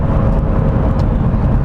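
Lamborghini supercar accelerating, a loud, dense, rumbling roar with heavy low-end power, steady and close for a brief moment with no voices.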